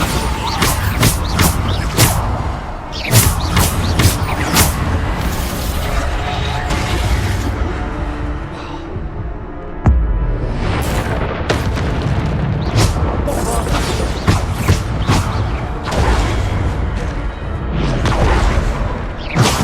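Repeated Bombarda spell blasts from Hogwarts Legacy, loud booming bursts landing one after another over dense game combat noise and music, with a short lull near the middle before the explosions resume.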